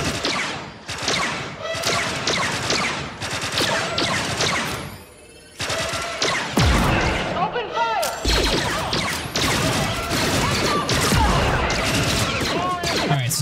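Troopers firing blasters in the Star Wars Outlaws video game, with rapid, dense volleys of sharp shots and impacts, several bursts broken by brief pauses, loud and close.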